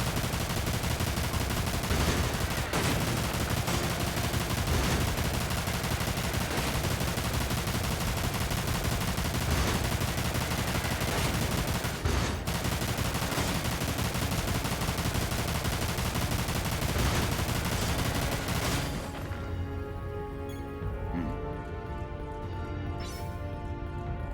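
Sustained rapid gunfire from shooting enemies in the video game Dirge of Cerberus roars loud and dense almost without pause, a continuous barrage with occasional sharper bursts that suddenly drops away into quieter game sounds near the end.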